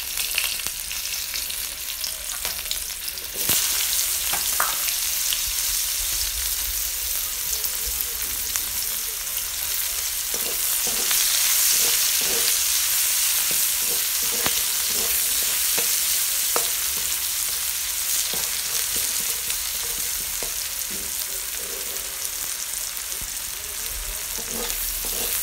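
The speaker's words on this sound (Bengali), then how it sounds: "এবার ওই তেলেই একটু কাঁচা লঙ্কা ফোড়ন আর পেঁয়াজ কুচি দিয়ে ভালো করে ভেজে নেব।" Green chillies and chopped onions fry in hot oil for an egg curry, a loud continuous sizzle with occasional spoon scrapes and stirs, close and steady throughout without speech.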